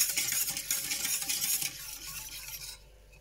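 A spoon stirs a cornstarch chocolate dessert mixture in a pot, making a continuous soft scraping and swishing that is moderately close and then fades to quiet near the end.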